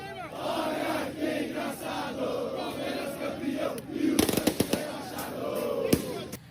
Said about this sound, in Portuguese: A torcida do Palmeiras vai comemorar muito, já está comemorando